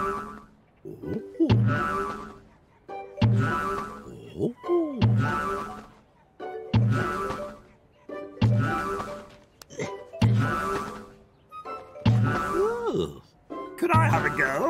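Cartoon trampoline bouncing, a springy boing repeating about every second and a half, seven or eight times in steady rhythm, each bounce with a thump and a short vocal grunt.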